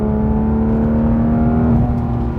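A car engine holding a steady tonal drone on a winding Smoky Mountains road, loud and close inside the car, with the pitch dipping slightly near the end as the throttle is released.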